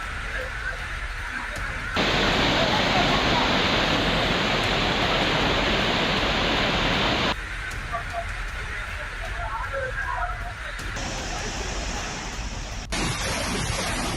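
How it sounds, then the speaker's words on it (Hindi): A flooded waterfall in Tamil Nadu roars after heavy rain as a dense, loud, steady torrent, with abrupt cuts between shots of differing intensity. "झरने में आए सैलाब से भारी तबाही मची हुई"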